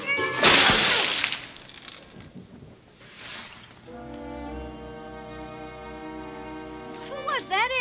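A man imitates a cat, letting out loud, drawn-out meowing yowls in a wavering, sing-song voice, preceded by a noisy crash and a short burst of sound.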